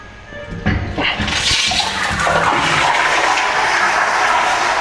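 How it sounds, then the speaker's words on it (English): A toilet flushing in a public restroom: a sharp click and whoosh of rushing water that swells and then settles into a steady roar of refilling, heard close by. "Somebody didn't flush."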